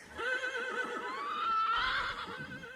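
Two cart horses whinny and neigh in agitation as they flee from a farm in a dramatized reading of Lovecraft's The Colour Out of Space; shrill, wavering cries run continuously and fairly close over a faint low rumble.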